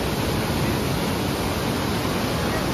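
Mountain river water rushing near Yamunotri in the Himalayas, a loud, dense, unbroken roar close by, with no voices over it.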